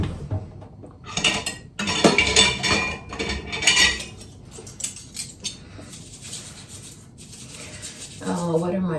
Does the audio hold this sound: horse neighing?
no